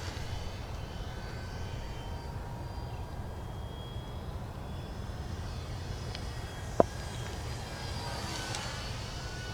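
A Dynam P-51 Mustang V2 RC model warbird flies overhead with a steady, moderately loud electric motor drone that holds even throughout, heard from the ground outdoors.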